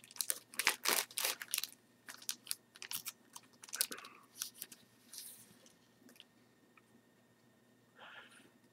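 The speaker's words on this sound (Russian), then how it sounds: "здесь у нас такой вот пакетик с декалями" A small plastic bag holding decals from a Zvezda Panther tank model kit crinkles and crunches in bursts, close and fairly quiet, with handling rustles that fade into sparse, softer crackles toward the end.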